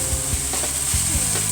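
Kale and prawns stir-frying in a hot pan: a bright, constant sizzle with scraping and stirring clatters layered on top, close and loud, with no talk.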